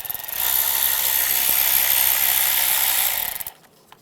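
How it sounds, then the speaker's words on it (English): A 10mm socket ratchet backing out a wiring harness bolt on a 1996-2002 Toyota 4Runner valve cover, one continuous close, loud rapid clicking run of about three seconds that stops abruptly. "Use a 10mm socket, remove that bolt."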